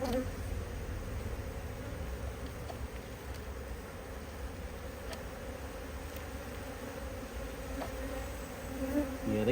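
Honeybees buzzing around an opened hive during an F1 Buckfast queen introduction: a dense, steady, close swarm drone with a few louder passes, no talk.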